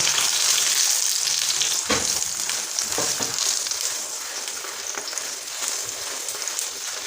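A sarson saag paratha fries in desi ghee on a hot pan, giving a steady, close crackling sizzle with small pops and one brief louder scrape, and no talking.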